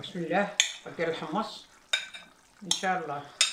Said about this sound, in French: Donc là elle rajoute donc ces pois chiches